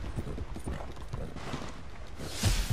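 Horse hooves clopping steadily during an online race in Red Dead Redemption 2, a rhythmic, moderately close thudding gait over a low rumbling background, alone without talk.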